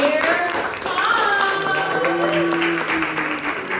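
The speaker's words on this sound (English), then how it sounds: "So get ready, start clapping right now" An audience at a Black stand-up comedy show claps, a bed of scattered handclaps running steadily beneath a voice and musical tones that sit over the clapping throughout.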